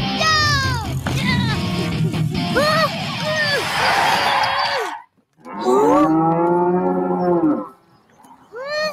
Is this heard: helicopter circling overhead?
no